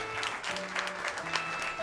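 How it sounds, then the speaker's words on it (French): An audience applauds a violin student who has just received a silver medal at a music award ceremony. The clapping is fairly quiet and uneven, with a faint tonal hum underneath. "faut l'applaudir"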